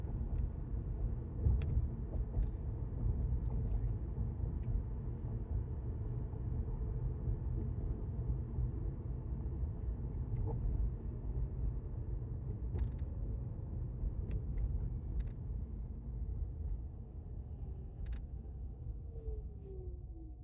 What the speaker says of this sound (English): That's the sound the electric car makes